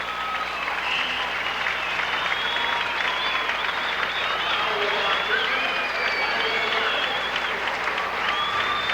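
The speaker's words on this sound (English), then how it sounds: "Kevin Bontemps gets a nice hand from the crowd as he comes out." Applause from a crowd at a 1979 high school basketball game between Morton Potters and Rockford East, a steady dense clapping with cheers mixed in that lasts throughout, with a commentator talking over it.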